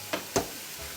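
Minced meat sizzles in a frying pan, a steady soft hiss with two brief louder crackles or stirring scrapes, close and moderately quiet.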